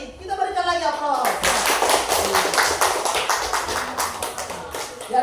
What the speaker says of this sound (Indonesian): Kita berikan lagi aplaus.